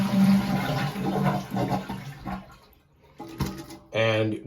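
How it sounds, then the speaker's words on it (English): An American Standard Champion toilet flushes to empty its tank, a loud rushing swirl of water that drains away and falls quiet before a second burst of gurgling refill. A voice talks over the start of the flush. "you want to flush the toilet and get all the water out of the tank"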